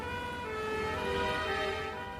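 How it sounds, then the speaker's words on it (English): An ambulance siren wails steadily from a vehicle, a continuous tonal warble at moderate distance with road noise beneath. "211 is the ambulance from Newbury."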